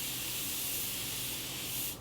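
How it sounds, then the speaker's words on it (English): A facial mist bottle sprays continuously onto a face, a bright, even hiss held for about two seconds before cutting off abruptly. "let me spray some of this right now"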